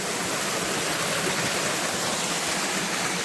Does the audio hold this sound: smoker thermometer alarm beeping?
no